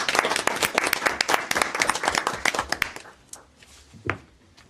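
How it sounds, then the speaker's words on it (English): A council meeting room breaks into a short round of applause, dense clapping for about three seconds that thins to a few scattered claps and a final tap. "perhaps, Council, we can give him a round of applause for his experience"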